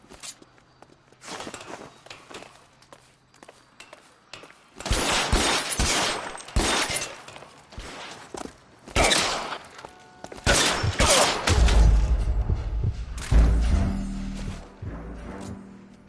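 Gunfire in the L.A. Noire video game: loud bursts of shots in quick clusters, with footsteps and scuffling between them, ending in a heavy, booming volley.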